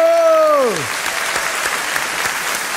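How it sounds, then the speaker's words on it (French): An audience at a stand-up comedy show breaks into steady, close applause right after a short, falling vocal sound, with the clapping continuing evenly to the end. "Ah, applaudis, Marie, viens"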